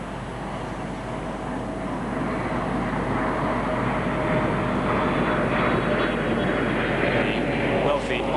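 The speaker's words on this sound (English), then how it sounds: "as the Comet passes over Heathrow with London in the background" A de Havilland Comet jet airliner flies over Heathrow during an anniversary flypast, its engine roar building steadily and broad, loud and sustained throughout.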